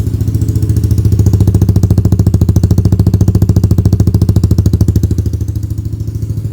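An automatic motorcycle with an aftermarket exhaust and no dB killer idles right up close with a steady, deep, smooth, even pulse throughout.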